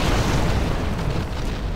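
A broadband explosion rumbles through a round of C&C Generals Zero Hour, a dense, sustained roar lasting nearly two seconds with no clear gap and no voices.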